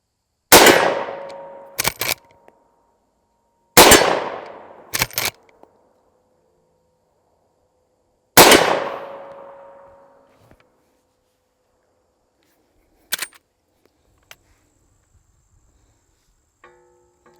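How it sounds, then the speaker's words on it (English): Three loud, sharp gunshots from a .327 revolver striking a mild steel plate, each followed by a ringing metallic clang that slowly fades, with a few lighter clicks and knocks afterward. "Shoot that piece of mild steel, see how it reacts."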